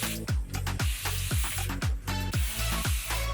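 A continuous-spray water bottle mists in repeated hissing bursts, about eight quick pulses in a steady rhythm, close and fairly loud with no talking.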